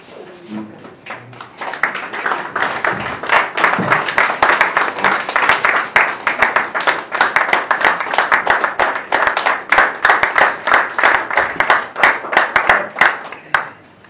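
Sustained applause from a seated audience at a ceremony marking the handover to a new governor of Kinshasa, dense steady clapping lasting throughout, with a brief voice near the start.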